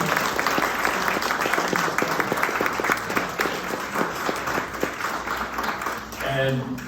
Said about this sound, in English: a big round of applause for Scott Galvin.